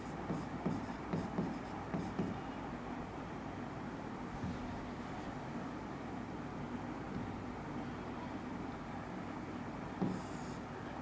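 Soft scratchy marker or chalk strokes on a classroom board during a chemistry lesson, quick bursts early and again near the end, faint and steady under a constant background hum.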